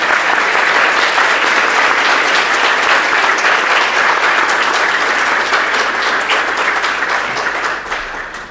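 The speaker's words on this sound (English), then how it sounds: "This is your applause." Loud, sustained applause from a hacker conference audience thanking the volunteers, a thick continuous roar of many hands clapping close by that holds steady for about eight seconds before tapering slightly.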